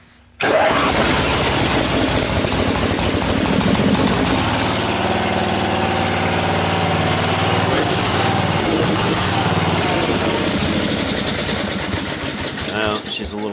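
A 1975 Gilson engine with the choke on cranks, catches and settles into a loud, close, steady rattling run that stays even throughout, with a brief quiet moment before it fires.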